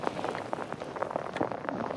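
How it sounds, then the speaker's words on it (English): Rain falling outdoors on a lake: dense, steady patter of drops splashing on water, moderate and even, with no voices. "I think the rain is here to stay for a while."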